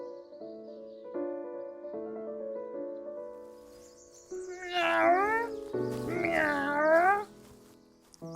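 A cat in an animated children's story by Eric Carle gives two long, wavering meows that rise and fall, following a stretch of gentle background music; the cries come close and fairly loud, likely a voice performing the cat.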